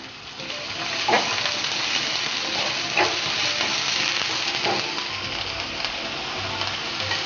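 Garlic sizzling and frying steadily in a pan as the base for spaghetti, with a few sharper stir clatters over the continuous hiss and no talking.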